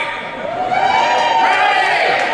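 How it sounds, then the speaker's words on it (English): An audience yells and cheers rowdily in a hall, a swelling mass of shouts and whoops with some high voices that builds and holds for a couple of seconds. "Yelling, screaming, heckling, cheering, and animal noises are all heavily encouraged."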